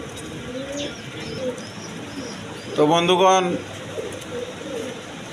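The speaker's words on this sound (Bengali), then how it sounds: "দেখেন বিভিন্ন ধরনের আরও কবুতর আছে" Pigeons coo in a rooftop loft during a sale, soft repeated calls running under a voice, with one louder burst of cooing partway through.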